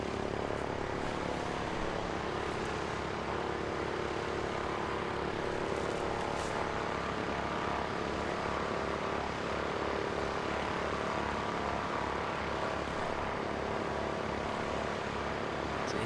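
Propeller airliner arriving at Christchurch Airport, New Zealand, on the Air New Zealand flight in from Invercargill: a steady, continuous engine drone with a low harmonic hum, moderately distant, sustained throughout with no voices.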